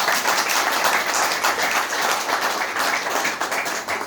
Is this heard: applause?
yes